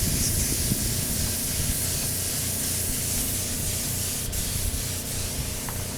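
A spray gun applies custom-mixed metallic paint to motorcycle wheels, a continuous loud airy hiss that runs unbroken and close for the whole stretch with slight fluctuations in strength.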